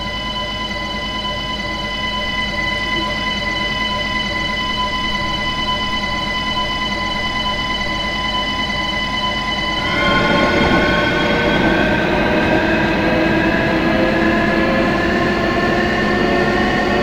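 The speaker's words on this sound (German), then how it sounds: "Ja, das ist der Anfahrsound, wie ich finde, schon sehr real auch." Siemens Desiro ML electric multiple unit in Train Simulator 2016 starting off, a steady loud traction hum and whine with rising tones, swelling louder with rumbling running noise after about ten seconds, no talking.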